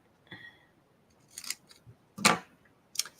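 Scissors snip through scrapbook paper in a dovetail cut, a few crisp separate cuts spaced across a quiet room, up close and fairly soft.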